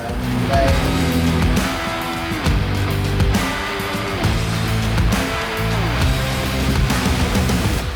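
A beach buggy fitted with a 20-valve turbo engine runs steadily and loud, its throbbing exhaust note rising and falling slightly with revs throughout, close up with no other sounds.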